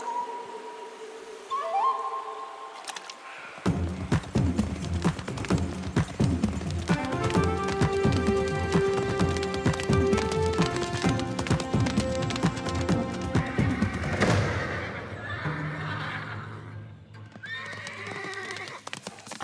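Cartoon horses from Yakari clip-clop and whinny over a busy, loud orchestral score, hooves and neighs mixed steadily into the music with no talking.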